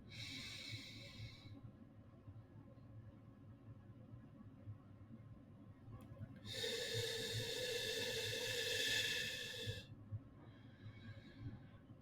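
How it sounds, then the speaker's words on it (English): Slow, deliberate breaths drawn in and pushed out during a square breathing exercise, close and soft, with a long airy exhale in the middle and quieter breaths on either side, no talking. "there's a breathe in and out for 4 seconds by drawing the square in the air"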